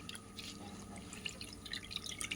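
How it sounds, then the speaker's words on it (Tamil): Manathakkali greens are rinsed and swished in water, producing soft, faint dripping and splashing close by, with no talking. "கீரையை நல்லா ஆஞ்சி அலசி எடுத்துக்கணும்"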